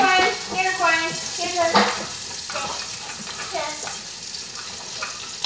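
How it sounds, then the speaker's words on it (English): Bacon frying in a pan: a steady sizzle and crackle, with scraping and light clatter from stirring, while a person talks intermittently over the cooking. "I'm just gonna get the bacon cooked up a little bit here."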